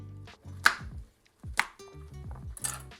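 A knife chops roasted vegetables into quarters for a roast lamb dish. There are three distinct sharp chops on a board, each followed by a short rustle and a brief lull, close and fairly loud, with no talking.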